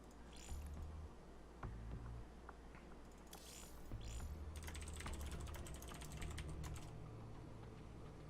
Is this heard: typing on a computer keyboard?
yes